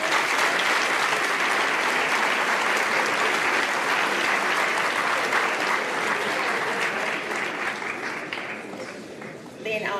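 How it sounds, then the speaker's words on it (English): Audience at a school capping ceremony breaks into sustained applause and cheering, dense clapping for most of the stretch before thinning out near the end, with some voices mixed in. "Let's give them a cheer."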